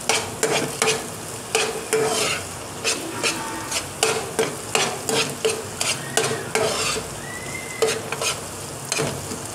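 Semolina milk halwa topped with almonds and other dry fruits is stirred in a pan, with rhythmic scraping strokes repeating over a continuous soft sizzle, close and fairly loud, with no voices.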